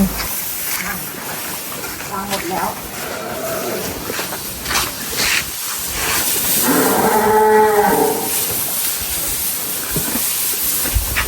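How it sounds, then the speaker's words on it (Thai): Cows mooing on a Thai cattle farm, with a long, loud low moo near the middle, heard over steady hiss and background noise while people talk. "เราจะขุนเป็นวัวตัวเมียนะคะ"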